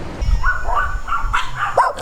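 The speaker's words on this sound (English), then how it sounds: "we walked back to the Mercadito and we woke up the entire neighborhood of dogs" Neighborhood dogs bark and yip in a loose string of calls, loud and fairly close, overlapping one another at night in Los Angeles.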